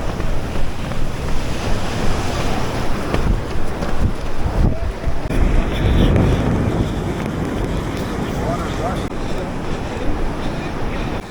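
Ocean surf and strong wind on a beach in Cabarete, Dominican Republic, a loud continuous roar of breaking waves mixed with heavy wind buffeting across the microphone.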